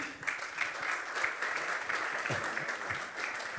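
An audience at a startup award ceremony applauds the national winner, a steady, moderately distant clatter of many hands that holds evenly without talk over it.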